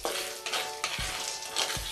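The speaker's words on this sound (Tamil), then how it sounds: "இந்த ஸ்டேஜில் இந்த பொட்டுக்கடலையும் நல்லக்கடலையும் போட்டுக்கோங்க." Roasted gram and peanuts fry in hot oil with garlic, giving a soft continuous sizzle broken by a few low stirring knocks, close and quiet with no talking.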